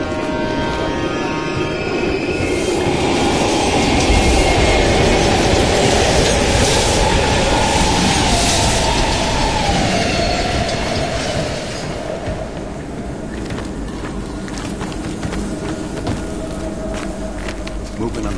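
A train rolls past at an abandoned station in the video game Call of Duty Black Ops, a loud steady rumble that swells and then eases slightly, with a voice speaking over it.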